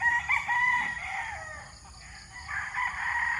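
A gamefowl rooster, an 8.5-month-old Sweater crossed with Boston Roundhead, crows loudly and close by in one long drawn-out call, with a softer second crow following.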